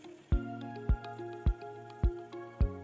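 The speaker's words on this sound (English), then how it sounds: "you start hearing water going into your system." Water trickles and gurgles steadily into a Vaillant boiler heating system being refilled, with a regular drip-like plop about every half second, close and fairly quiet.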